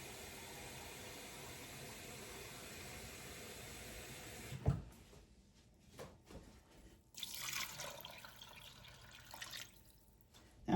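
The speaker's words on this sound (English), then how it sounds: "we're going to cover our beans and pork with water." Water is poured from a tap over beans and smoked pork in a pot, a steady rushing flow that cuts off partway, followed by quieter drips and a second short pour.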